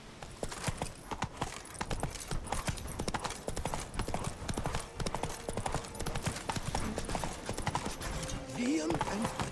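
A horse gallops in The Witcher, its hooves beating a quick, continuous clip-clop rhythm close by, with tack jingling and a brief whinny-like tone near the end.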